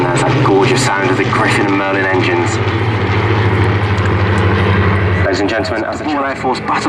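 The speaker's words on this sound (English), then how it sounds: "there's that gorgeous sound of the Griffin and Merlin engines" Roaring Rolls-Royce Griffon and Merlin piston engines of Battle of Britain Memorial Flight aircraft drone loudly overhead at an airshow, a deep rumbling growl that swells and shifts as the planes pass, with a voice talking over it.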